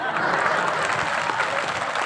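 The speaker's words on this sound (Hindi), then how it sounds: "उनके लिए भी एक बार जोरदार तालियां" Religious gathering audience clapping during a Bhagavat katha discourse in Jabalpur, a dense, steady wash of applause filling the whole stretch at even loudness, with no break and no clear talking over it.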